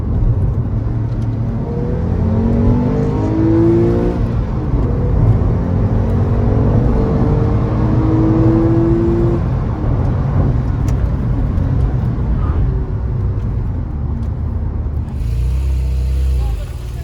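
A GTS car engine holds at high revs with the throttle fully open, a sustained loud whirring roar with rising tonal sweeps before easing off near the end.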